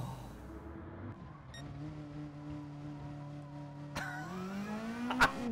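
A race car in GT Sport drifting, its engine droning at a steady pitch that rises near the end, with a sharp burst of tire and impact noise toward the finish; fairly faint, no talking.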